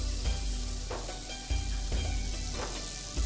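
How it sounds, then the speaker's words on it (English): Gulab jamun dough balls fry in hot oil with a steady, close sizzle and crackle, soft bursts of bubbling rising and falling throughout, no voices. "I'm going to fry them for a few more minutes"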